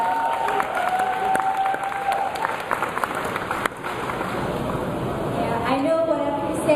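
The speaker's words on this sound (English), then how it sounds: "big round of applause for Sharyn Shufiyan" An audience at a Pecha Kucha presentation night claps for a presenter, a steady wash of applause that runs throughout with a few tonal sounds mixed in.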